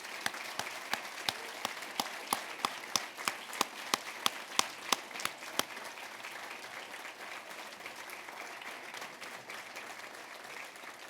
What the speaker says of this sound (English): please to be rise and recognized again with a round of applause